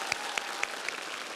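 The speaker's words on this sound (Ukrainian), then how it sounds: "браво вам, аплодисменты всем" Audience applause after a vocal performance on a televised singing show, a steady wash of clapping with a few sharper claps standing out, moderately loud and with no talking over it.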